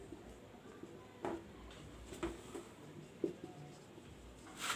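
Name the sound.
writing by hand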